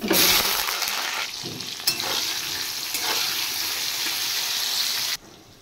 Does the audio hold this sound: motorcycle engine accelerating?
no